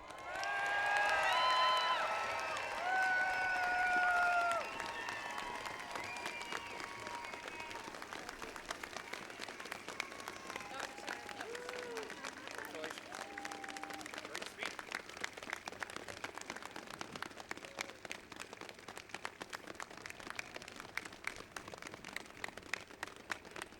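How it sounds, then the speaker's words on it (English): Applause and cheering from the crowd after the Michigan governor's 2019 inauguration address, with sustained clapping and scattered whoops; a loud burst at first, then long, steady applause continuing throughout. "Lots of applause and cheers for the address from the 49th governor of the state of Please Michigan"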